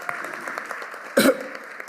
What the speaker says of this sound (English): Big round of applause for our students again.